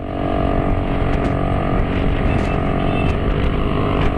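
Honda Pop motorcycle engine revving hard and steady near the microphone, holding a loud continuous drone with small shifts in pitch as the rider changes gear.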